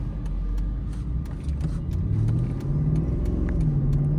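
Mercedes-Benz SL63 AMG car driving and accelerating, a steady low engine rumble and road noise from inside the cabin, rising slightly in pitch midway with no talking.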